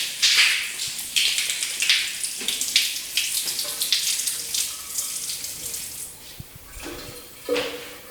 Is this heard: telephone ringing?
no